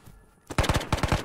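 Gunfire in the video game Ghosts of Tabor: after a brief quiet lead-in, a rapid automatic burst of loud, close shots in an even rhythm, around a dozen rounds.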